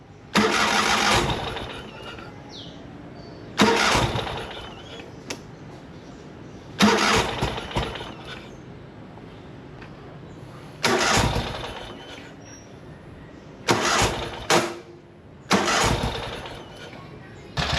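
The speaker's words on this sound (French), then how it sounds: "on a démarré, le temps de la chauffer" A vehicle engine being coaxed to start after repair work: several loud cranking bursts separated by pauses, the last catching and running on. Someone speaks briefly in between.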